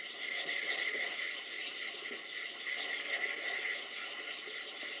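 Two sharpening stones, a 1,000 and a 16,000 grit, rubbed flat against each other, a close continuous gritty scraping hiss with slight back-and-forth swells, alone and steady throughout.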